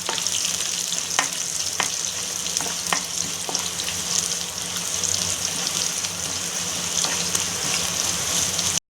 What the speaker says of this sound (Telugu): తర్వాత ఎండుమిర్చి అనేది ఒక 3 వేస్తూ ఉన్నాను